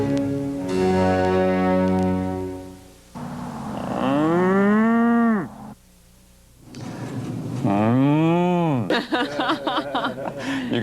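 A man imitates a cow mooing with his voice, giving several long, drawn-out moos one after another, close and loud, with rising and falling pitch and brief pauses between them.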